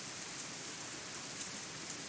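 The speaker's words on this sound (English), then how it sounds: "when the first drop of rain lands on the back of my hand" Rain falls in a steady, even hiss of many small drops on a surface, a constant wash of patter with no talk, in the visual novel game Katawa Shoujo.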